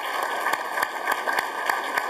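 An audience applauds in a sparse, moderate patter of clapping over a steady background hum, with no talk during it.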